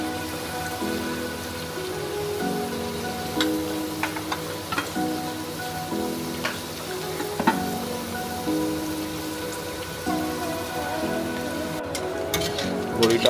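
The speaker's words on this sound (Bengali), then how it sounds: "কড়াইতে এবার আলুগুলো ছেড়ে দেওয়া হচ্ছে" Potatoes frying in hot oil in a wok, a steady dense sizzle running throughout with occasional crackles and spatters, close and fairly loud.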